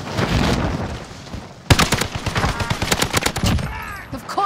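Bursts of Call of Duty Warzone gunfire with a BAR and Type 100, sharp repeated shots in quick volleys after a dense, noisy stretch, with faint voice chat mixed in toward the end.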